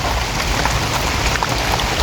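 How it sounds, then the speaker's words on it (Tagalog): Steady rain falls on garden plants and ferns, a dense continuous patter of drops close by, with no voices over it. "Yan ang halaman kapag ka naulanan."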